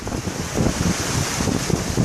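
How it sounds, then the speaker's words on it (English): Ocean waves wash onto a beach in a steady, close roar of surf mixed with wind noise buffeting the microphone, with no talking. "the waves"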